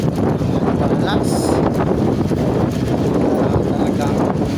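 Steady, loud wind buffeting the microphone outdoors, a continuous broadband rush with no pauses.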